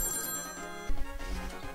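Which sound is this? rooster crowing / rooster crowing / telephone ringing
telephone ringing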